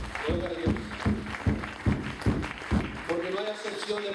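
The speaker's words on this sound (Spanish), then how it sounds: "Den un aplauso a Cristo, hermano, al Todopoderoso" Church congregation applauding during a service, a rhythmic, even clapping pattern heard under a preacher's loud voice.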